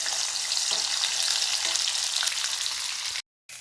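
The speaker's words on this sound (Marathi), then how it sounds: "अदरक लसूणची पेस्ट घालणार आहोत एका मिनिट परतून घ्यायचं" Ginger garlic paste fries in oil over medium flame for chole, a dense, even sizzle with faint stirring that cuts out abruptly near the end before briefly resuming; nobody speaks.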